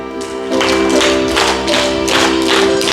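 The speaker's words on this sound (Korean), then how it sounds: "우리 박수를 신나게 뜨겁게 칩니다" Enthusiastic rhythmic clapping from a church congregation during a Sunday worship service at a Korean church in Hawaii, steady beats over sustained organ or keyboard tones and singing.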